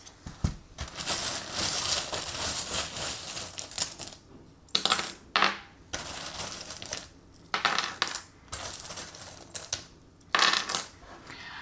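Small metal charms tumbling and clinking together for a tarot reading, bursts of rattling jingles shaken and dropped close by, separated by short quiet gaps.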